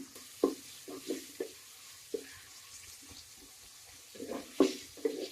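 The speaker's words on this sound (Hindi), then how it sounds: "अभी इसी घी में प्याज ऐड करके तो इसको फ्राई करूँगी" Onions frying in ghee in a pot for daal karela, a soft background sizzle broken by repeated irregular stirring scrapes and knocks of a spoon, close by, with no talk.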